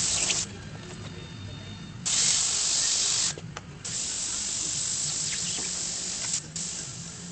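An airbrush sprays paint onto a fire helmet in a steady hiss, loud and close, stopping briefly now and then before starting again.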